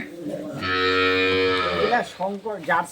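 A dairy cow at a farm moos once, a long loud low-pitched call lasting over a second, followed by a few short sounds at the end.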